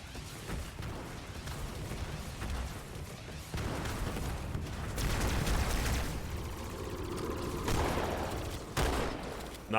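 Halo 2 combat: a frag grenade blast mixed into a dense, continuous rattle of gunfire, loud and sustained throughout with a few heavier bursts.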